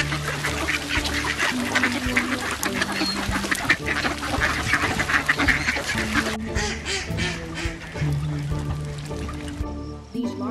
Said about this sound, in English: you have probably seen this bird in any small body of water around the mallard or wild duck